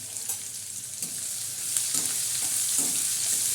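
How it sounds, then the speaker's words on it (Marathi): Cumin seeds and crushed garlic sizzle steadily in hot oil as a tadka for a village-style moong dal, a continuous close frying hiss with a few faint soft knocks, no talking. "आपण लसूण जिऱ्याचा वरून तडका दे देतो"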